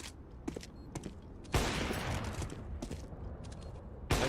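AK rifle fire in Counter-Strike on the Overpass map arrives as brief sharp bursts, a couple of short taps early, then a loud sustained burst and one final crack.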